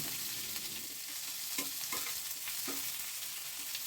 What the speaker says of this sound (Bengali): হালকা গোলাপি করে এই পেঁয়াজগুলোকে আমি একটু ভেজে নেব